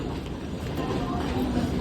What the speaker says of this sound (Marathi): ही बघा दुसरी ट्रेन आले